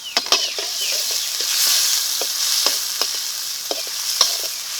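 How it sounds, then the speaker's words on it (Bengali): Chopped onions sizzle steadily in a hot pan for a dahi chicken curry, with sharp clicks and scrapes of a spatula stirring them at irregular intervals, close and fairly loud, with no voices. "পেঁয়াজটা লাল লাল করে ভেজে নেব"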